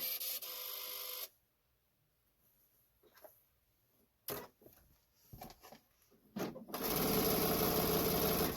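A sewing machine stitches pieced fabric in short bursts, loud runs at the start and end with quieter intermittent clicks and brief whirs between, no talking.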